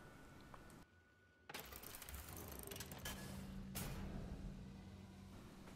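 A massive door in a video game grinds open with a mechanical, ratcheting creak and rumble that swells and holds steady after a brief quiet pause, loud and close with no voices.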